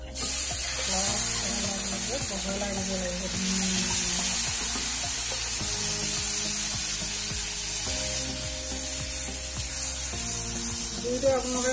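Hot oil sizzling in a pan while cooking Assamese food, a steady close hiss running throughout with faint stirring clinks, while a person talks.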